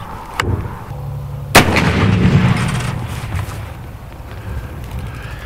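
Armor-piercing incendiary .50 BMG rifle fire strikes a bowling ball outdoors: a sharp crack, then a louder blast a second later, followed by a rumbling roar that slowly fades under steady background wind.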